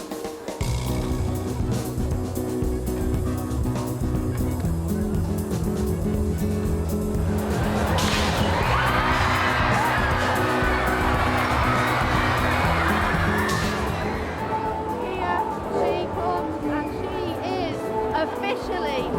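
A huge outdoor crowd at the La Machine street spectacle in Liverpool roars and cheers, swelling into loud sustained cheering over a rumbling mechanical hum, with people talking nearby.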